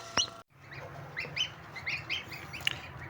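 Newly hatched goslings in an incubator giving short high peeps, several scattered chirps over about three seconds, close and fairly faint against a low hum.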